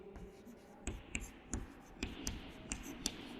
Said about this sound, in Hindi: अब लिखेंगे